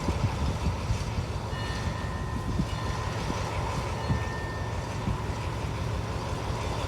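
An Alsthom 4307 diesel locomotive hauls Thai passenger train 251 from Thonburi, giving a continuous, loud rumble with faint rail clatter and a thin high whine throughout and no voices.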